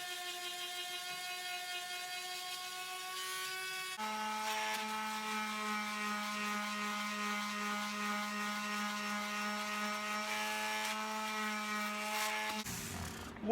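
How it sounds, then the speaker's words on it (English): A power sander working over a 3D printed plastic helmet, giving a continuous high mechanical whine with a pitch shift partway through, running alone with no talk, then cutting off abruptly at the end. "You want to let the sandpaper do its stuff and actually sand off."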